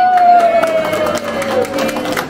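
A group claps for a birthday welcome cake during a Holy Land pilgrimage, a short burst of scattered close applause mixed with voices.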